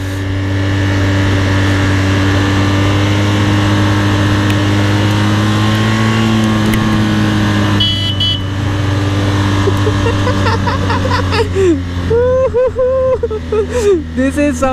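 BMW S1000RR sport motorcycle running steadily at speed with loud continuous engine drone and wind, the pitch shifting as revs change near the end, while a rider talks over it.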